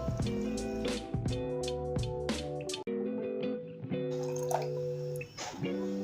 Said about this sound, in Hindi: थोड़ा थोड़ा पानी डालकर मैं इसको मिक्स करूंगी।